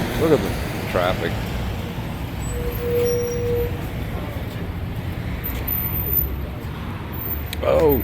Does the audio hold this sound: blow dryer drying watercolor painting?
no